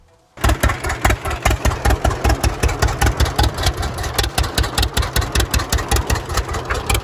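A John Deere D two-cylinder tractor engine starts up and settles into its loud, steady, evenly spaced popping exhaust beat, heard close and alone.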